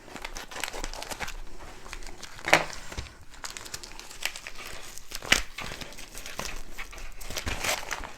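Crinkling and tearing of packaging material close by, with two sharp rips standing out among steady rustling and handling noises.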